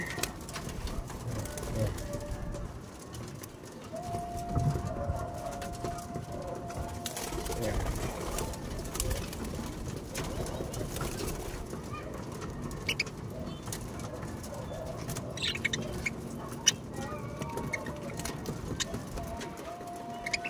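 Pet pigeons being hand-fed, soft cooing and occasional wing flutters close by, steady over a murmur of background noise while a person talks.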